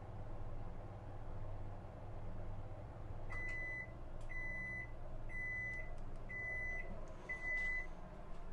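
A microwave oven runs in an RV on lithium battery and solar power, a steady low hum throughout, with a series of five faint, evenly spaced electronic beeps in the second half.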